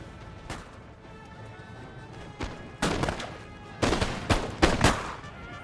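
Musket volleys crack in Total War: Napoleon, with Cossack cavalry and British foot in the battle, starting as sparse distant pops and building to several sharp, louder volleys near the end.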